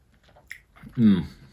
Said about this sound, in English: Yeah, it takes quite a lot of chewing to get through that.